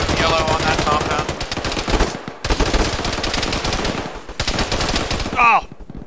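Dense, rapid machine-gun fire rattles through a firefight in the military game Arma, a loud near stream of shots that breaks briefly and resumes, with a voice shouting at the end.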